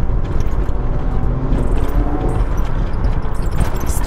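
A 170-horsepower petrol car engine runs steadily while driving, a continuous low rumble with road noise, close and fairly loud throughout.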